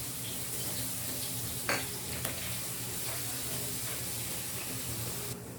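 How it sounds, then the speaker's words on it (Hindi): Garlic paste meets hot oil in a pan for Chinese-style bhindi, giving a steady close sizzle and fry, with a couple of brief spoon scrapes and clinks over the continuous hiss. "लहसुन का पेस्ट डालेंगे"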